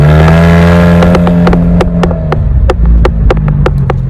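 A car engine fitted with a side stack exhaust revs loudly and close, its deep droning tone climbing and falling with sharp popping bursts as the throttle is worked.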